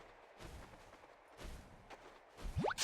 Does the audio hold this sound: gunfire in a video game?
yes